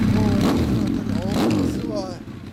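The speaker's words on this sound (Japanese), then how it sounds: "ちょっとエンジン音聞かせてもらえますか？" A 2004 Honda CB1300 Super Four ABS with an aftermarket Yoshimura-style exhaust revs up three times in quick, rising blips, loud and close, with a deep throaty exhaust rumble between them.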